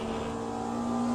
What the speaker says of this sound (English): I will further decrease the engine sounds, because the mic is now maxed out